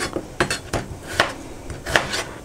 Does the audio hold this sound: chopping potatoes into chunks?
yes